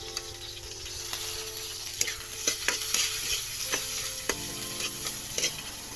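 Garlic and chili frying in a pan, a steady close sizzle throughout broken by the clinks and scrapes of a utensil stirring against the pan.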